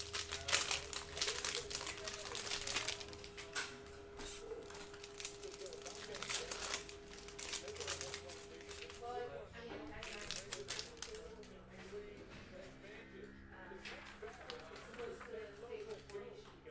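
A Panini Hoops Premium Stock multi-cello pack of 2019-20 basketball cards is torn open, with crinkling, crackling plastic running throughout and a person talking over the noise.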